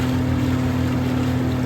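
A motorboat engine drones loudly and steadily with a low throbbing hum as it revs up during a race on the Murray River, close by, with faint water and wind noise underneath.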